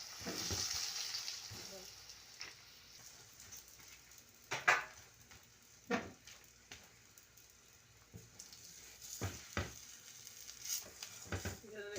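A paratha fries on a hot tawa with oil and a little butter, a soft low sizzle interrupted by several sharp scraping and pressing sounds from the spatula, with no one speaking.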